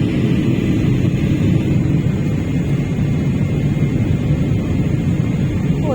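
From inside the cabin of a passenger airplane landing at night on a Mumbai to Jeddah flight, a dense, heavy roar of engine and airflow holds steady throughout, loud and low.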